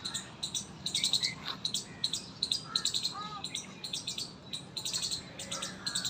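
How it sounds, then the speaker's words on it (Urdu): Birds sing and chirp through a morning walk past a ground, repeated bright tweets and calls over steady insect chirring, moderately near and continuous with no talk. "پرندے دی کڈی خوبصورت آواز ہے"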